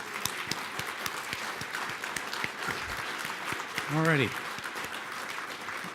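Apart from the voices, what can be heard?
conference audience applause for the event host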